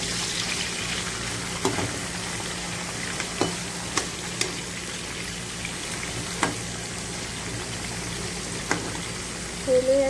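Boiled chickpeas frying with browned onions in a pan, a steady close sizzle punctuated by occasional spoon clicks and stirring scrapes, with a short louder burst at the end.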